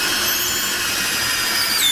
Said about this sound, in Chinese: 接下来我们来锁螺丝